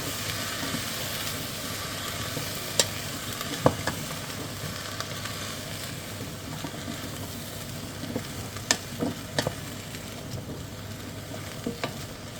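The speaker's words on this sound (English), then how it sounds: "Just going to stir that up." Carrot and sweet potato soup stirred in a pan, a quiet continuous simmering hiss with scattered soft knocks and scrapes of the spoon, no voices.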